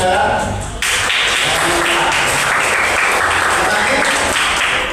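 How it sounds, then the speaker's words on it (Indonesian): Audience applauding the presenters at a classroom presentation session, a dense sustained burst of clapping that begins abruptly and fills the room for several seconds. "kasih aplaus untuk yang berpresentasi"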